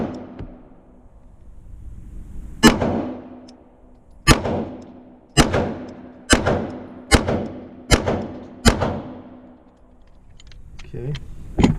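Glock 19 handgun fitted with an Apex trigger firing seven sharp shots in an uneven sequence, each crack loud and close with a short decay, followed by faint clicks.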